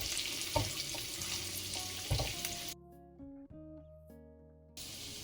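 Chopped ginger and garlic hit hot butter in a pan and sizzle loudly for a few seconds, then the frying noise drops out abruptly with faint clinks before a brief return of sizzling at the end.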